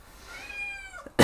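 A cat gives a single drawn-out meow close by, with the pitch sliding downward, followed by a sharp burst of noise.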